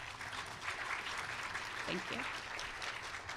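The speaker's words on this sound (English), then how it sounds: "Can we give them another round of applause?" An audience at a conference panel session applauds the panelists, a full, steady wash of clapping from the room while a voice briefly speaks over it near the middle.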